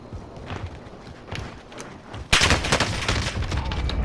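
AK rifle fire in Modern Warfare, a sudden loud volley of rapid shots breaking in after scattered quieter battlefield noise and footsteps, dense and close.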